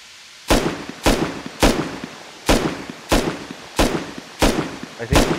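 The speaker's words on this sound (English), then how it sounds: "Is that an auto turret?" An automated turret in the video game Rust fires a regular series of about eight sharp, loud shots spaced roughly half a second apart, each with a short decaying tail.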